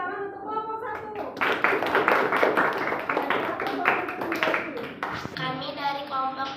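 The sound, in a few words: applause for group 1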